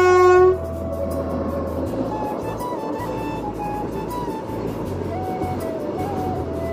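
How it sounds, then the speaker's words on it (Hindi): A train of oil tanker wagons rolls past up close, with a steady heavy rumble and rhythmic clatter of wheels over the rails, opening with a brief horn blast and continuing loud throughout. "इस तरफ से आ रहा है ट्रेन"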